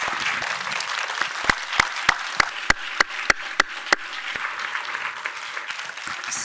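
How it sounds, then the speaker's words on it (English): An audience in a theater applauds panelists after a talk on a Black Panther photographic time capsule, a dense clapping wash with a run of sharp, evenly spaced louder claps standing out near the middle. "Can we get another round of applause for our panelists?"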